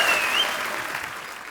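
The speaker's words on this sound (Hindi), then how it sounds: "जोरदार तालियां" A studio audience claps loudly on a Hindi comedy talk show as a guest is welcomed, a dense burst of applause that fades gradually, with no talk over it.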